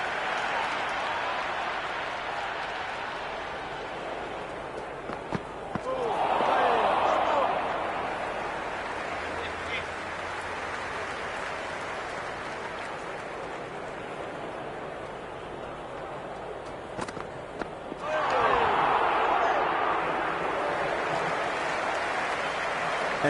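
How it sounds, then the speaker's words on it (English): Cricket crowd in a T10 match cheering after a boundary, a broad distant roar that swells twice over a steady murmur, with commentators talking throughout. "The crowd is electric right now."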